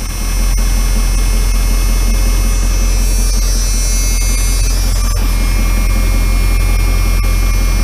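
An OBS Ford Powerstroke diesel engine fitted with a six-position chip runs at high idle, a loud, steady, droning roar with a constant whine layered on top, heard close and without a break.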